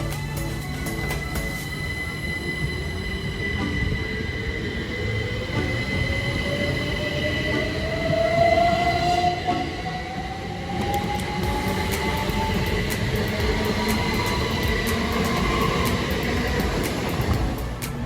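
Class 387 electric trains pulling out of Bristol Parkway station, a steady rolling rumble with a rising whine of traction motors building and gliding upward, plus faint wheel squeal and rail noise throughout, fairly close.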